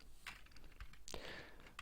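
Quiet clicking on a computer keyboard, a short burst of key presses entering an import shortcut in a Java coding setup, soft and close with a slightly louder cluster of clicks midway.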